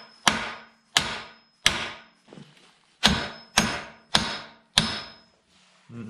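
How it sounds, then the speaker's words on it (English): Seven sharp, ringing hammer strikes driving a metal pin into a Bobcat 751 Bob-Tach, at a steady pace, each one close and loud with a brief metallic decay, with one short pause midway. "I need to hammer this pin in"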